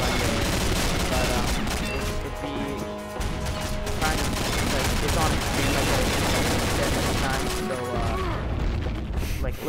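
Dense gunfire from the Combat Arms video game crackles in rapid bursts with mechanical clatter. It runs loud and nearly continuous, briefly dipping twice.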